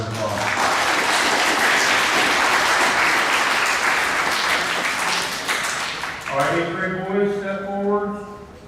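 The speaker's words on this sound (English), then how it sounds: "give the 7th grade boys a round of applause" Loud, dense applause from a school awards assembly crowd honoring the 7th grade boys, sustained for about six seconds before tapering into scattered claps as a voice begins speaking over it.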